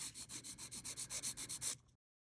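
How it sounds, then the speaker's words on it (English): Dip powder nails being filed and buffed: about a dozen quick, rhythmic rasping strokes close up and fairly quiet, each a short scratchy swish, before the sound stops into silence. "let's get to filing and buffing"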